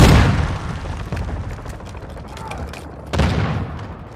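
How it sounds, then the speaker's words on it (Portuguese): Grenade blasts and gunfire in the Call of Duty war game: a loud, close boom opens, a rattle of shots continues underneath, and a second heavy explosion bursts near the end. "Jogando granada."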